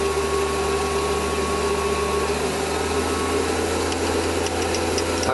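A centre drill bores into a small steel pin for a Webster engine on a lathe, a steady continuous machine whine and hum with a faint rising squeal near the end, close and unbroken.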